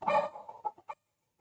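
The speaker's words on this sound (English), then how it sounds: "they also keep chickens." A chicken clucking sound effect plays during a stage performance of an English-language play of The Little Prince, a brief burst of a few quick clucks that ends in silence.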